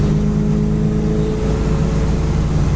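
A 1966 Chevelle SS cruising at about 70 mph on a road, with a steady, loud cabin drone of engine and road noise with a low hum throughout.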